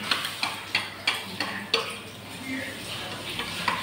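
Powdered milk being stirred into liquid milk for an egg pudding, a quick series of clicking spoon taps against the bowl over a faint wet swirl, close and moderately quiet.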